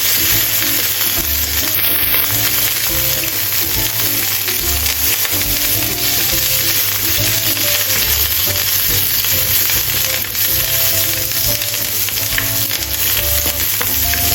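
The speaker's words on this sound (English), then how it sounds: "Stir-fry curry leaves with high heat." Curry leaves stir-fried over high heat in hot oil give a loud, steady, dense sizzle and crackle from close by for the whole stretch, with no talking.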